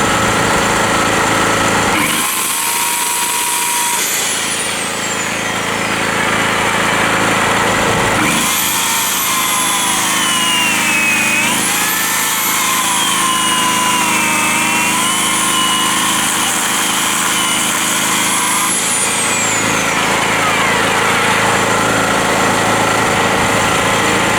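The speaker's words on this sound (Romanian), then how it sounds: "Deci merge chiar bine generatorul." A small portable electrical generator runs steadily on its first start test under load, a loud continuous engine drone with a high whining tone that rises and falls as load changes, alone without talk.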